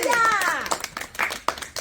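Children clap at a village Republic Day (26 January) gathering as a legislator is welcomed: a few sharp, scattered claps follow a voice in a short, close burst.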